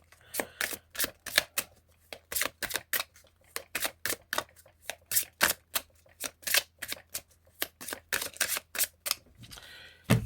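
Tarot cards riffled and shuffled by hand for a cross spread, a run of crisp, rapid flicking bursts in close succession, fairly near and alone without talk.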